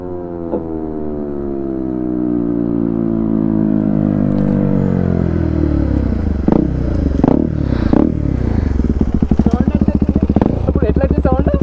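A KTM RC390 or Aprilia RS457 superbike engine hums loudly and steadily, its pitch sliding down and then climbing through gear changes, with rough revving bursts near the end.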